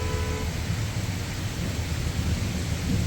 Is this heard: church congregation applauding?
no